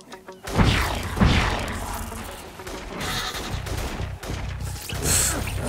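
Gunfire aimed at the player in the video game inFamous: Second Son, a series of loud sharp bursts and cracks amid a busy mix of effects and background game sound, continuing throughout without talk.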